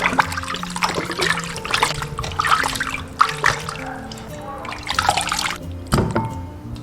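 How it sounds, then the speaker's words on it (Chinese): Pig tails being rinsed and washed in water, with splashing, trickling and sloshing that comes in repeated bursts, close up and moderately loud. "买了60几块钱的猪尾巴，我们给它清洗干净"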